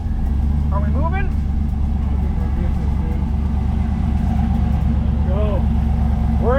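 LS-swapped box Caprice custom cruiser engine idling steadily with the transmission engaged, a loud continuous low rumble throughout, with voices talking over it.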